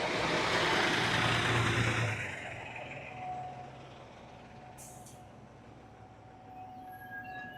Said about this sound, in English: Peter Pan bus passing by.